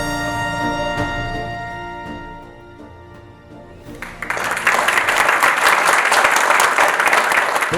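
Applause at a lifetime achievement award ceremony honouring a retired justice, breaking out about halfway through as dense, loud, sustained clapping from a large audience after a quieter stretch of music.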